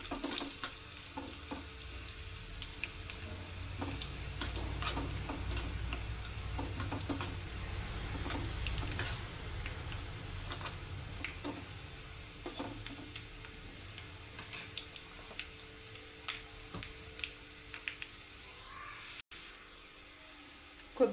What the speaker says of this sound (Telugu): కొంచెం బ్రౌన్ కలర్ వచ్చే వరకు వేయించుకోవాలి వెల్లుల్లి